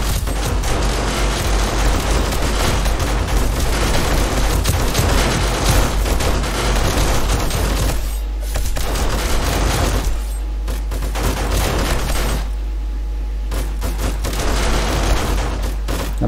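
Land mines in 7 Days To Die going off during a blood moon night, a dense run of booming blasts and crackling bursts that stays loud, with brief lulls between volleys.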